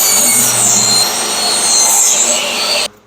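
A power saw cuts 1.5 inch pieces with a loud, close, steady high-pitched whine and grinding buzz that runs nearly three seconds, then stops abruptly.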